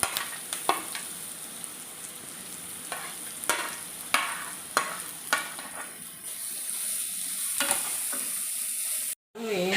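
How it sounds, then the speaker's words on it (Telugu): Grated carrot fries with onion in a pan, a continuous close sizzle broken by several sharp spatula scrapes and stirs, with a brief dropout near the end and no talking. "ఆనియన్ కొంచెం ఫ్రై చేసుకొని క్యారెట్ వేసుకోవాలి తురుముకున్న క్యారెట్"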